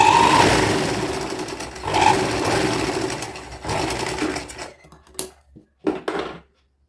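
A sewing machine stitches the side seams of a child's net frock in close, loud bursts of rapid whirring, pausing between runs and ending with short spurts before falling silent.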